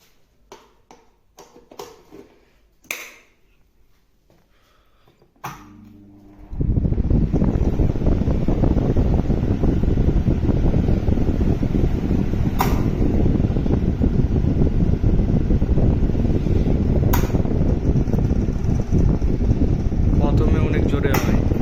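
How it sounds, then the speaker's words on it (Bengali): An old table fan switches on and runs at high speed, a loud, steady close-up whir and rush of blowing air that fills the scene after a few quiet seconds of faint knocks and handling. "আপনাদেরকে টেবিল ফ্যান চালা দেখাচ্ছি কেমন চলে"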